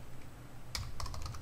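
Typing on a computer keyboard during a networking lesson: a short burst of several quick, close key clicks after a brief pause, alone over a low steady background hum.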